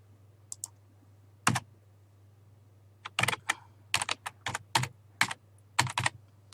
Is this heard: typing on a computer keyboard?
yes